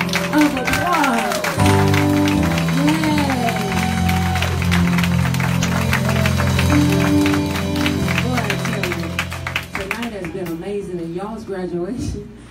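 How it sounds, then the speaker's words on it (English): A crowd at an evening conference gives graduates a round of applause, steady clapping mixed with cheering. Loud music and singing voices play throughout, and the clapping stays partly buried under them. "could y'all please give these graduates a big round of applause"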